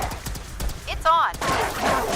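Several gunshots in Fallout 4 crack out in a quick, uneven run, closely spaced and fairly loud, with a brief whirring game effect in the middle and low talk underneath.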